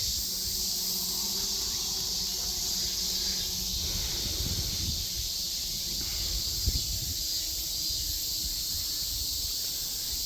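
Japanese cicadas drone near coastal villages and rice paddies, a steady, unbroken high-pitched buzz that holds for the whole stretch over a soft low rumble of outdoor background, with no voices.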